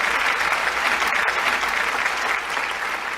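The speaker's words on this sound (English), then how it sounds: "So let's give them a round of applause for tonight" Sustained, dense applause from a theatre audience fills the room for student performers of the Jamesburg Theatre Group's third annual Theatre for a Cause, steady and loud from start to finish with no talk.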